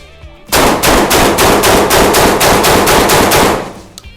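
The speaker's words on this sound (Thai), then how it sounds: "ผมว่าวันนี้น่าจะน้องเต้น่าจะยิงลูกซองได้มากที่สุดในชีวิตนะ" A Saricam shotgun fires a rapid, loud, close burst of roughly a dozen shots in quick succession at a shooting range, then the firing stops abruptly with a faint clank after.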